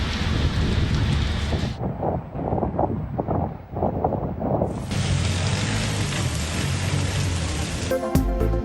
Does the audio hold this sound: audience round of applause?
no